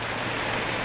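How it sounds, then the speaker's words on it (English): Heavy rain pours down during a severe thunderstorm southwest of Omaha, a steady dense hiss that fills the whole short stretch with no voices. "You can probably hear the rain just beating down out there"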